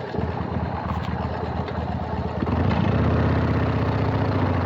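A 2003 Harley-Davidson 100th Anniversary Sportster motorcycle idles with a steady, throbbing rumble, close by. The engine note grows fuller and louder partway through, then holds at that level, with no talking.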